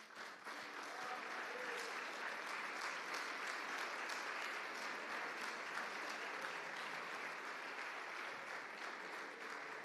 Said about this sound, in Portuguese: se coloque de pé aplaudindo a Jesus